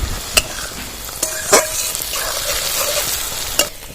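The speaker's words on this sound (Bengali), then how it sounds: "সর্ষের মধ্যে পেঁয়াজটা লাল লাল করে ভেজে দিচ্ছি আমি" Onions fry in mustard in a pan for a mustard fish curry, sizzling steadily while a utensil scrapes and knocks against the pan a few times. The sound is close and fairly loud.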